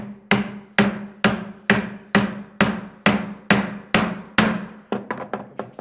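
A chisel driven by a mallet to cut a mortise in wood, about ten sharp, evenly spaced blows, each ringing briefly and decaying, ending in a quicker flurry of lighter taps.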